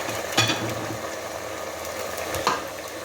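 Fresh tomato frying in a pot of egusi soup, a steady sizzle with a couple of sharp clinks from a utensil against the pot.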